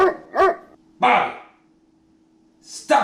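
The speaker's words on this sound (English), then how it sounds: "stop all that barking." A dog barks several times in short bursts, close and loud, with pauses between, over a faint steady hum.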